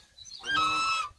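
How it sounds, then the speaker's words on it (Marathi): A brooding native country hen sitting on eggs in a small pen on a farm gives one drawn-out, nasal clucking call, close and fairly loud, with quiet pauses on either side. "असे इथे कोंबडी उबवणी बसलेली आहे"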